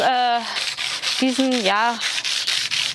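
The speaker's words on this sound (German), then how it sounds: "Weil wenn wir jetzt einfach so einen ovalen Fleck hier rausschleifen, passt er nicht mehr in die Holzmaserung" Sandpaper rubs back and forth on a painted wooden table being distressed for a shabby chic look, giving close, steady scratchy strokes, while a voice speaks briefly over the sanding.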